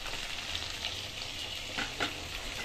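Taro and potato frying in oil with a black cumin seed tempering give a steady close sizzle, with a couple of brief stirring scrapes near the end and no talking.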